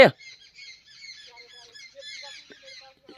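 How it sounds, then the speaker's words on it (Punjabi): Sparrows chirp and twitter in a mango tree, a busy run of short, high calls that overlap one another and go on for the whole stretch, heard at close to middle distance after a brief knock at the start. "ਉਰੇ ਅੰਬ ਦੇ ਦਰਖਤ ਤੇ ਨਾ ਪੂਰੀ ਚੀਂ ਚਿੜੀਆਂ ਨੇ ਚੀਂ ਚੀਂ ਲਾਈ ਵੀ"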